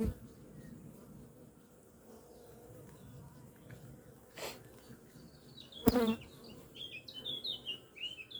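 Honeybees hum softly around a hive in an apiary on a late-May visit, a low continuous buzz with a few closer insects passing by and faint bird chirps in the background.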